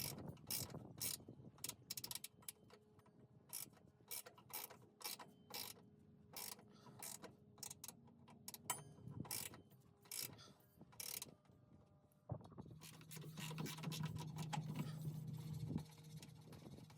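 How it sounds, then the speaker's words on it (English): Wrench working the rear shock absorber bolt on a Ford Ranger RWD, a series of quick ratcheting clicks and metallic creaks in bursts, then a grinding turn near the end, close and fairly quiet. "Just gonna use my wrench to remove it"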